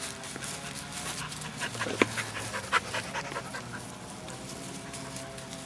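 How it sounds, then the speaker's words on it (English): A very big Rottweiler pants quickly and steadily while playing, close by, with a brief yip partway through and faint rustling in the background. "Mercedes is playing with Aldo, very big Rottweiler."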